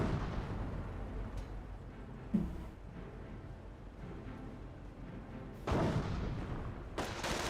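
Anti-tank gun firing in Company of Heroes, rounds missing a Grenadier and striking the ground; a low, rumbling battle bed with two or three sharp booming impacts, the loudest near the end, with no talking.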